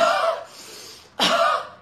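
Two loud, close coughs from a person taking deep breaths, the first longer and raspy, a brief pause, then a second sharp cough; no talking.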